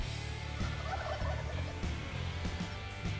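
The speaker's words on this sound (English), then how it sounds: "waiting for that distant gobble" A wild turkey gobbles at a distance in the open, several rattling calls repeating over a steady outdoor background, with no voices present.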